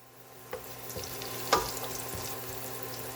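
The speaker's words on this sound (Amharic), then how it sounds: "አሁን ሽንኩርቱ እንደምታዩት ጥብስ እያለልኝ ነው" Onions fry in oil with fresh rosemary in a pan, a soft steady sizzle with a few faint clinks and stirring knocks, close and quiet, no talking.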